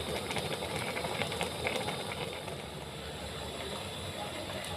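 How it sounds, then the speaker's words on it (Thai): A pot of bamboo shoot curry with mushrooms boils on the stove, giving a steady, close, hissing bubble with no breaks, soft and unvarying throughout. "พอแกงเดือดนะคะ เดือดเต็มที่แล้วนะคะทุกคนนะคะ"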